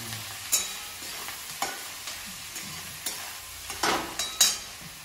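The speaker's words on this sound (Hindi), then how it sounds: "थोड़ा सा नमक डाल के प्याज को सिझाते हैं" Onions sautéing with a little salt in a pan for a home-cooked mutton curry: a steady soft sizzle runs underneath while a spoon scrapes and clacks against the pan in intermittent stirring strokes, close by, with no talk.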